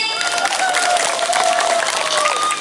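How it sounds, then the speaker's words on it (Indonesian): Loud, dense applause from the audience at a large Islamic religious gathering in Purwogondo, Sumurarum, Grabag, steady clapping throughout with a crowd murmur underneath. "Tepuk tangan sik."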